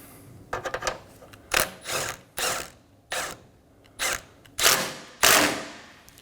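A hand ratchet snugs a 10mm bolt on the horn of a Dodge Durango, giving six or seven separate bursts of quick clicking with short pauses between them, close and clear.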